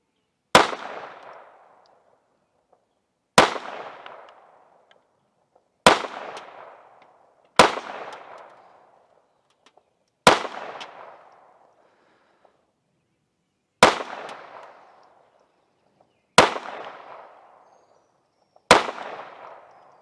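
Rifle shots hit metal flip targets on a shooting tree outdoors, eight sharp cracks spaced a few seconds apart, each followed by a ringing clang and a fading echo, with no talking.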